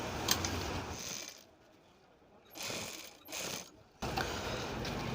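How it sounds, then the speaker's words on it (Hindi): Foot-pedal sewing machine stitching a sleeve strip: short bursts of rapid mechanical whirring and clicking stop and start in separate runs, with quiet pauses between them. "इसमें एक पैर का दबाव देते हुए सिलाई हमें लगाना है"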